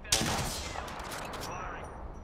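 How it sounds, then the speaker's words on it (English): A sharp burst of automatic gunfire in the shooter game Apex Legends, opening with a loud crack and followed by a rattling volley that trails off over about two seconds. "They're shooting at me"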